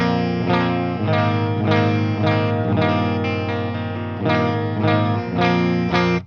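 Electric guitar through a PRS MT15 amp on the clean channel with all knobs at noon, strummed chords in a steady rhythm with sustained ringing tones, close and loud, no talking.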